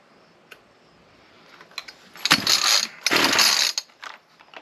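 A Ryobi C4618 chainsaw is pull-started, with a few short clicks and then two rasping bursts of a starter cord and engine that fails to catch, close and loud.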